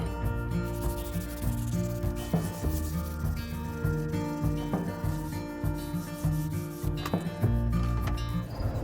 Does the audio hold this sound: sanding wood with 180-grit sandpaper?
yes